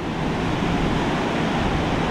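Ocean waves wash steadily, a broad continuous rush of surf at even loudness throughout, with no voices or distinct breaks.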